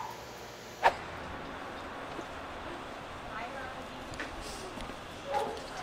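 A rescue dog gives a single sharp bark near the start, followed later by faint whimpers and small yips, with quiet human voices talking around it.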